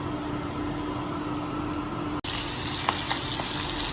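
Pabda fish frying in a pan gives a steady, close sizzle and crackle that runs without a break, with a brief cut partway through. No one speaks.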